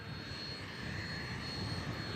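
A hot-rodded biplane, a stock aircraft rebuilt with a big custom engine, roars past at an air show in a steady, loud engine drone with a broad rushing wash and no voices.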